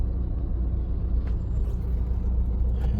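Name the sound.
road traffic noise, cars in a traffic jam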